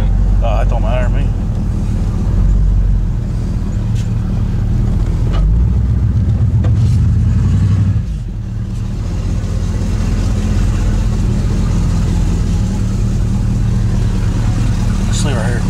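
A 1985 Chevy Caprice station wagon with a Vortec 350 V8 drives on the highway, a loud, deep droning engine and road rumble inside the cabin with a brief dip in the middle and people talking over it.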